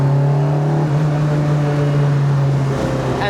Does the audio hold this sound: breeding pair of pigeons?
no